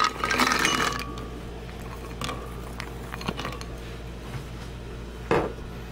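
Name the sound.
walnuts dropped into blender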